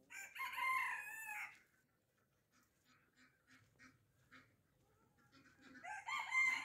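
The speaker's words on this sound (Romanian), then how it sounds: "Uitați cocoșul de Brahma, Metișu." A mixed-breed Brahma rooster crows twice, nearby, at the start and again at the end, with quiet clucking and soft farmyard sounds between the calls.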